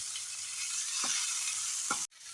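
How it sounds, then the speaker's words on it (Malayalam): Onion sizzles with green peas and carrots in a pan, a close, even hiss of sautéing broken by two soft stirring scrapes, then a brief cut near the end; no voices. "നമുക്ക് ഇത് മട്ടറും ക്യാരറ്റും ഇട്ട് കൊടുക്കാം എൻ്റെ പച്ചമണം ഒന്ന് മാറണ വരെ ഒന്ന് വഴറ്റി കൊടുക്കാം"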